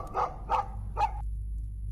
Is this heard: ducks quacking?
no